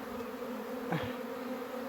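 A honeybee swarm being captured drones steadily throughout, a dense hum with a slightly louder swell near the middle, like many bees close by.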